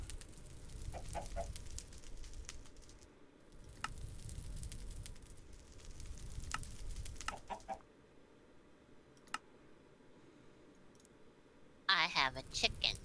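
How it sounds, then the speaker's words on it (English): Chicken clucking in Minecraft, a video game: a few short clucks and clicky game sounds over a low voice murmuring in the background, then a louder burst near the end. "I have a chicken."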